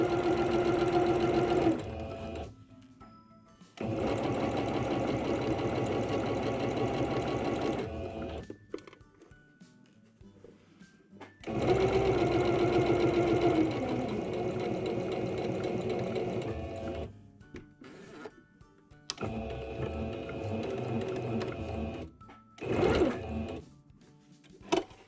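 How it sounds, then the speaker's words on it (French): A sewing machine stitches a washable fabric face mask in rapid bursts of rhythmic mechanical clatter, separated by short pauses, loud and close, with a brief squeak at the start of some runs. "Et là, on coud sur toute la longueur."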